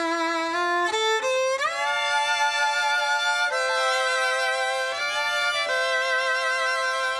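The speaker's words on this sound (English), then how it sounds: "This is the way 3 violins sound being played at the same time." Three violins play together in unison, drawing smooth, sustained bowed notes that rise in steps over several seconds, close and clear with no talking.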